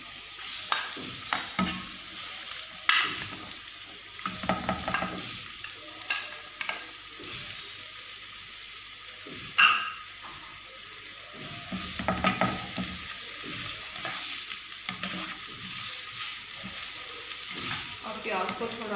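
Onions frying in oil for baingan bharta, a constant bright sizzle punctuated by frequent close spatula scrapes and occasional clanks against the pan, with no talking.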